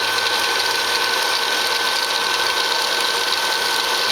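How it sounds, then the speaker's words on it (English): The blower motor of a popcorn popper roasting coffee beans gives a loud, steady, close whir that holds constant with no breaks and no talking. "Try and ignore the sound of the motor itself,"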